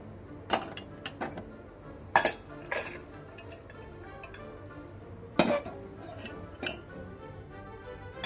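A spoon stirs boiled beans and peanuts into a pot of bean and toor dal curry, giving scattered metallic clinks and scrapes against the pot, a few sharper knocks standing out over a quiet background.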